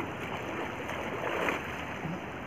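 A strong, fast river current rushes steadily in a dangerous stretch of river, a continuous broadband wash of churning water with no talk over it.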